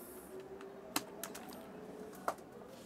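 A few sharp, isolated keystrokes on a computer keyboard, spaced unevenly against a quiet room hum, with no talking.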